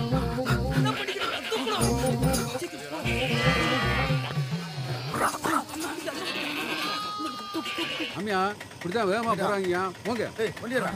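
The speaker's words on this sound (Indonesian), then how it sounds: "sang pemilik mendengar jeritan kambing" Goats bleat loudly and repeatedly, wavering cries overlapping one another, with other animal noises mixed in close by.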